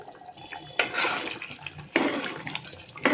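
Water splashes into a cooking pot with chili powder in two bursts, close and fairly loud, with a steady liquid rush between them.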